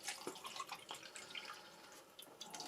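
Liquid is poured into an opened Polish 2022 S-RG-1W 24-hour combat ration pouch, giving a soft, continuous trickle and spatter with small drip-like splashes, faint and close, with no talking.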